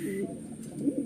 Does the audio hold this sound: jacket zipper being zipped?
no